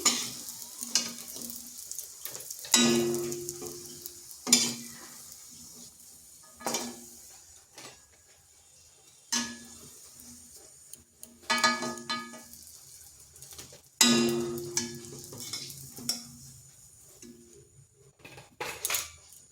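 Lentil fritters (dal bora) frying in hot oil, a steady close sizzle broken by repeated metal clinks and scrapes of a spatula against the pan as the fritters are turned and lifted out.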